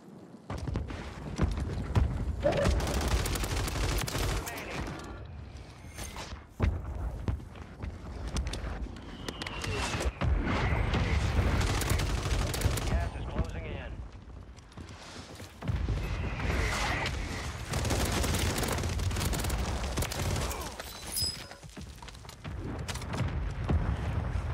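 Mortar shells pound down in Warzone 3 on Rebirth Island, repeated loud booming impacts with rumbling tails arriving in bursts, near and heavy, over gusty wind-like noise and a busy game soundscape.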